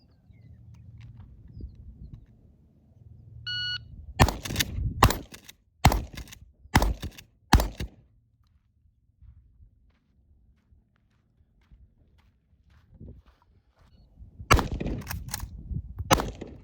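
Gunfire from a pump-action shotgun and a bolt-action rifle aimed at a target 10 yards away: a close, loud string of sharp shots, five in quick succession, a pause, then three more in a rapid burst.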